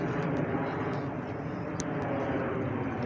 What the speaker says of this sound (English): A plane going past, you can hear it.